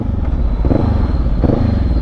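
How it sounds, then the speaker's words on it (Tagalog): A motorcycle rides behind the rider on a mountain road, giving a steady, close, low engine drone with a slight rhythmic pulse and no voices over it. "May motor sa likod mo ah."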